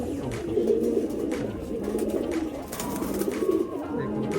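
A female pigeon from a tournament racing loft coos close by, giving a run of low, throaty, repeated coos in an uneven rhythm.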